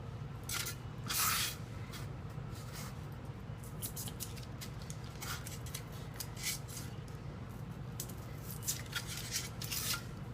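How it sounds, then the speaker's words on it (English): A box cutter trimming the edges of styrofoam, with repeated short scraping and crunching cuts in irregular bursts, close and fairly quiet. "To make the corners a little bit rounder, I just trim off the edges and round them."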